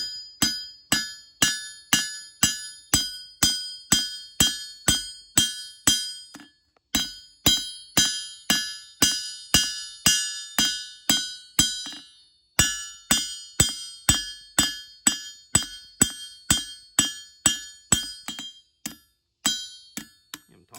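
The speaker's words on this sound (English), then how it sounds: "So we start hammering on it, getting them bevels in there." Hammering bevels into a steel blade: rhythmic hammer blows ring on steel, a fast steady series of sharp metallic strikes with short pauses between runs, close and clear.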